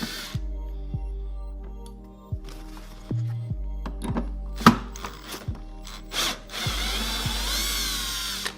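A cordless power tool, likely an impact driver, spins in repeated short bursts, loud and close, as it backs out bolts on a 2020 Harley-Davidson Road Glide saddlebag, with clicks and metallic handling between runs and a longer final burst.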